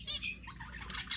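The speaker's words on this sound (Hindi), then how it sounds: "ये मेरी फिंचें हैं, फिंचेस की कॉलोनी है।" A colony of caged finches chirps in quick, bright, overlapping tweets with light wing flutters, close by and continuous over a short moment.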